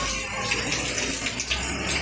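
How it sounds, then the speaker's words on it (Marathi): A continuous rushing of a river at Kesari, steady and close, with a broad gurgling wash and no voices. "ही केसरीची नदी वाहत आहे"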